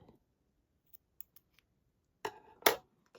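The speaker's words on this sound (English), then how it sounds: "We're going to give them a snip." Scissors snip the tails of beading elastic on a bead bracelet: after a few faint clicks, two sharp, close cuts land in quick succession near the end, with no talk.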